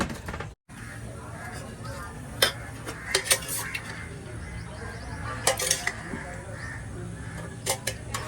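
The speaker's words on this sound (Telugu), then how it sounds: "దోశ పొంగడాల గిన్నె తీసి ఇదిగోండి" A pongadalu dosa pan is lifted out and handled in a home kitchen, producing several sharp metallic clanks and clatters over a quiet, steady background.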